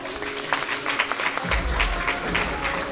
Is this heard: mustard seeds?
no